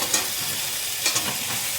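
Eggplant slices fry in a pan with little oil, giving a close, steady sizzle with a couple of soft scraping stirs as pieces are moved aside.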